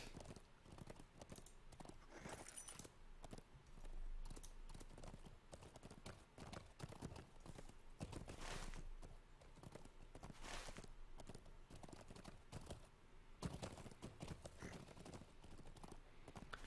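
Steady horse hooves clip-clop at a trotting pace throughout in the game The Lord of the Rings Online, a continuous rhythmic clatter, with a brief neigh-like sound mixed in.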